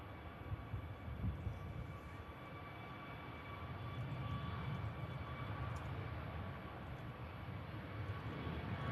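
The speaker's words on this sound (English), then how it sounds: "Whistle sound from the CFM Leap 1 Bravo engines." Whistling CFM LEAP-1B airliner engines at Manchester Airport, a steady broadband roar with thin sustained tones riding above it, holding at an even, moderately distant level throughout.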